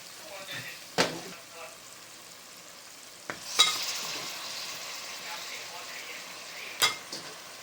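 Vegetables dropped into frying masala in a pan, a faint sizzle with a few sharp clinks and scrapes of a spoon against the pan, quiet and close.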